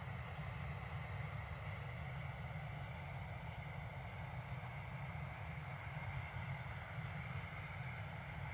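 A loud, steady drone of aircraft at Dublin Airport fills the whole stretch, a broad continuous roar of engines with no breaks and no voices.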